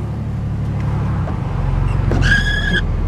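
A car moving through traffic with a low, steady engine drone throughout and a short, bright horn-like tone sounding near the end.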